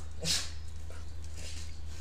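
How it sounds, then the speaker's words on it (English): A dog gives a brief high whimper followed by a couple of soft, short yips over a low steady hum indoors, fairly close and otherwise quiet. "My dog is disturbing me."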